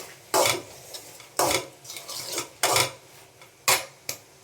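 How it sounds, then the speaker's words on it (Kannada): Washed coriander leaves frying in a pan, with a spoon scraping and knocking against the metal in about five sharp bursts over a low sizzle, close and clear with no talking. "ಇದನ್ನು ಕೂಡ ಇವಾಗ ಹಾಕ್ತಿದ್ದೀನಿ ಅದನ್ನು ನೀಟಾಗಿ ಫ್ರೈ ಮಾಡಬೇಕು"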